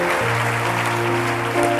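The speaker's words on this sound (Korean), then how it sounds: "이 선생님께도 박수 한번 부탁드리겠습니다" Audience applause at a teachers' symposium, a dense steady patter of many hands clapping, with a sustained musical tone playing underneath.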